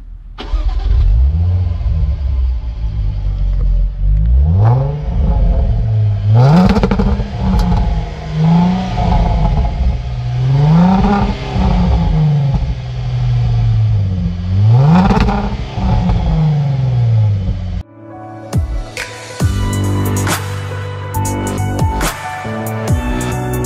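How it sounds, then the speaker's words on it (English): A Hamann-tuned Jaguar F-Pace SUV revs loudly and up close, its engine climbing and falling through repeated throttle blips for about eighteen seconds before cutting to a different, choppier engine passage. "now let's hear what the Hamann F-Pace sounds like"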